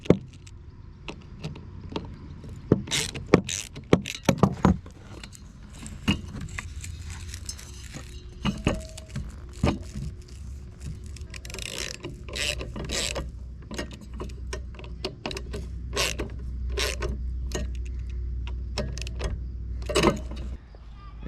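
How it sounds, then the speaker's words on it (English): Someone takes out two screws and turns the head of a Stihl Kombi mini-cultivator, giving quiet close-up clicks, scrapes and metallic rattles scattered through a long stretch of handling noise. "you have these 2 screws that you have to take out, and you should be able to just rotate the head around"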